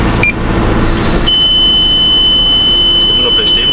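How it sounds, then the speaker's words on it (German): A high, steady electronic warning tone comes on about a third of the way in and holds unbroken to the end, over a low vehicle rumble with people talking. "Achtung, gleich piepst."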